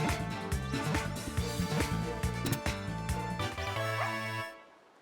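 Fidough, the dog Pokemon from Pokemon Violet, gives its synthesized barking cry over layered in-game music, which fades out at the end.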